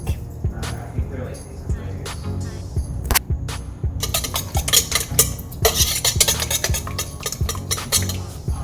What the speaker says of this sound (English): Now I can beat the eggs really quick.